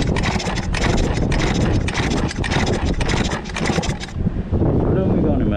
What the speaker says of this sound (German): ich gebe hier Gas mit dem Otto